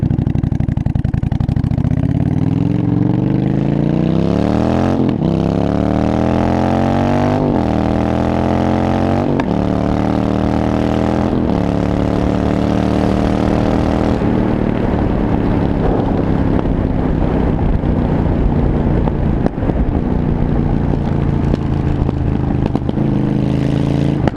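A loud 1982 Yamaha Virago 920cc motorcycle racing through streets, its engine roaring and climbing through repeated gears, each upshift dropping the pitch before it rises again, sustained and close for the whole run.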